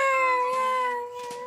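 A woman imitates a cat's meow with a single drawn-out, tonal mewing cry that holds steady and then trails off, heard alone without other talk.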